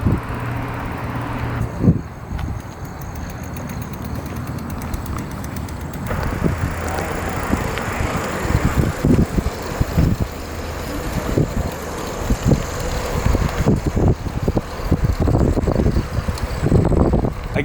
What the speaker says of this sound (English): We're gonna go for a bike ride.